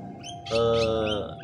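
A kacer, or magpie robin, gives a short, clear whistled call of about a second, close and fairly loud, with no one talking over it.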